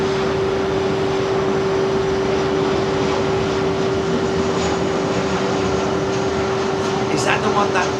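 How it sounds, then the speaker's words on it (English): A Boeing 737-400, delivered to Olympic Airways in 1991, rumbles past with a steady, loud broadband jet roar and a constant low engine tone, holding even throughout. "incoming, Jerry, the 737-400 in the background"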